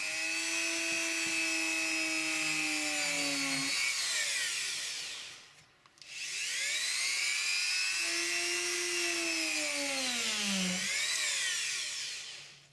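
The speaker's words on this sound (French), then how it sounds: "j'ai même eu l'idée d'imiter des trous de verre à bois grâce à une tête pointue dont dispose mon Dremel" A Dremel rotary tool with a pointed bit whines at high speed as it engraves, its pitch sagging under load and recovering, with a brief pause mid-way before the motor spins up again; loud and close.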